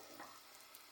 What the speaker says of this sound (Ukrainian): Накриваємо кришечкою і жаримо на середньому вогні.